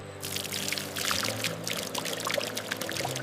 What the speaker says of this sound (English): Water helps soften the fibers and prepares them for advanced refining.